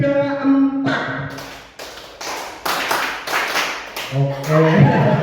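A classroom group does a rhythmic 'tepuk' clapping routine: short bursts of sharp claps in counted patterns, broken up by voices chanting and singing between the beats.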